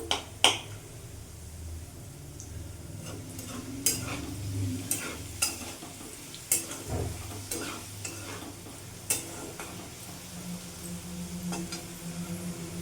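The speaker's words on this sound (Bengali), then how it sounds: "এরই মধ্যে ফোড়নটা ভাজা হয়ে যাবে" Spice tempering with a broken bay leaf and potatoes sizzles in hot oil, a low steady fry broken by repeated sharp scraping knocks of a spatula against the pan, close by with no talking.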